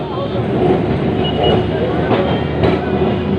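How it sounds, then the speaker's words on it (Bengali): A Kolkata tram rolls along toward Gariahat, a steady broadband rumble with faint metallic clicks and a squeal near the end, heard from on board and continuous throughout. "কিছুক্ষণের মধ্যে ট্রামটি নিজের গন্তব্যস্থলে পৌঁছে যাবে"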